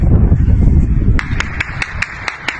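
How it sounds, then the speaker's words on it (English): Gunfire at a street rally in Slavutych, Ukraine, during wartime: a series of about seven sharp, evenly spaced cracks sound at a moderate distance over a dull crowd rumble. "That is gunfire."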